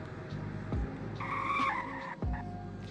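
A Koenigsegg Regera brakes hard from 55 mph, its tires giving a brief loud skidding squeal over steady engine and road noise.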